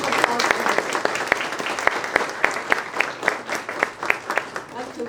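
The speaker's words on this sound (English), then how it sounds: "Great round of applause." A school audience applauds students of the month and their families at a morning ceremony, with a dense round of clapping punctuated by sharp, distinct individual claps, holding steady across the clip.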